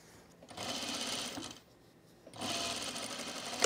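A sewing machine stitches a seam on a dress in two bursts of steady, buzzing whir, separated by a short pause near the middle; close and fairly loud, with no talking.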